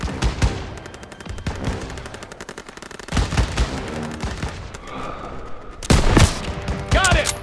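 Rapid bursts of rifle and machine-gun fire in a World War II battle in Call of Duty: WWII, loud and close, crackling in dense volleys with a few sharper cracks near the end, mixed with faint shouting.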